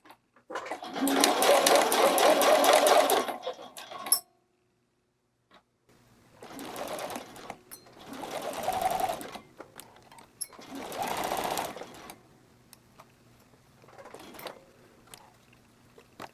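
A home sewing machine stitches a dart on a bralette in bursts: one long steady run, then several shorter runs separated by pauses, close and clear.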